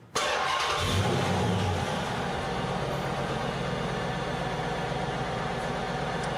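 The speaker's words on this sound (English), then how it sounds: "And we'll start our engine." An engine cranks briefly and catches, surging up loudly before settling into a steady, rumbling idle.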